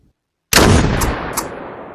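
A loud, sharp gunshot cracks out in the Beyond Sandbox VR game after a moment of silence, followed by a decaying echo and a couple of fainter bursts.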